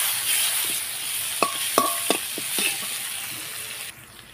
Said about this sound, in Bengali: তো ফোড়নের পেঁয়াজ থেকে আমি বেশ সুন্দর লাল লাল করে ভেজে নেব